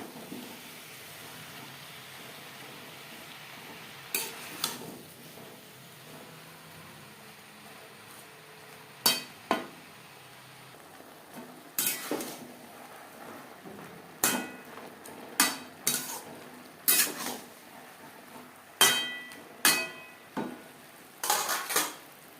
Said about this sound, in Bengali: সবজির সাথে শাক বেশ ভালো করে মিক্স করে দেবো।